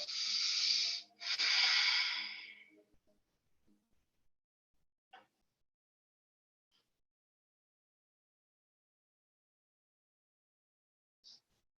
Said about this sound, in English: Three more inhales and exhales.